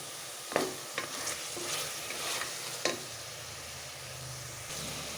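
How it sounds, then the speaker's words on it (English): Masala sizzles steadily in a hot pan while a spoon scrapes and stirs it, with a few sharp clanks against the pan. "Let this fry for about 2 minutes."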